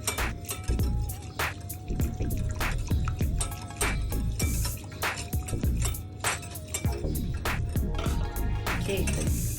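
Hot water splashes and trickles into a container while coffee jelly is being made, with irregular drips, clinks and spatters close by over several seconds.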